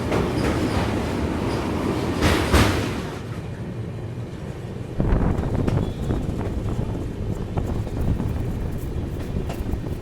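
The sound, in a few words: passenger train running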